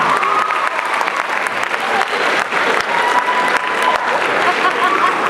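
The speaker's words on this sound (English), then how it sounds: "give him a round of applause" An audience at a youth speaker event gives a round of applause, loud and steady clapping with a few whoops and scattered crowd voices mixed in.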